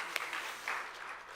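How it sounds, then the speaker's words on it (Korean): Congregation applause during a church service, a soft wash of clapping heard from a distance, faint and short. "우리 하나님께 큰 박수 올립니다."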